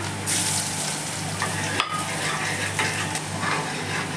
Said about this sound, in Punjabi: ਇਹਦੇ ਵਿੱਚ ਆਪਾਂ ਲਸਣ ਪਾ ਦੇਵਾਂਗੇ ਬਰੀਕ ਕੱਟਿਆ ਹੋਇਆ